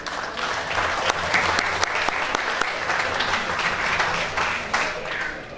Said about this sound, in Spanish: Así que un aplauso para ambos.